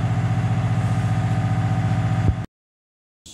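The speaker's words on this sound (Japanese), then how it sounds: "最終的にエンジンかかりました。" A small engine on a 4WD slope mower, its carburetor freshly adjusted, runs with a steady pulsing idle close by, then cuts off abruptly into silence before a brief noise returns.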